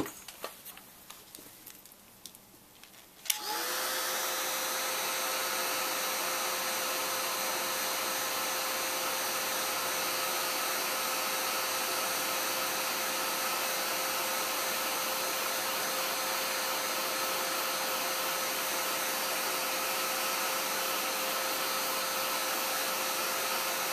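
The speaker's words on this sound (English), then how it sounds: "now I'm going to take and I am going to dry this a little bit" A handheld dryer switches on after a few seconds of quiet and runs as a loud, steady whir for the rest of the time, drying a small paper craft piece close by.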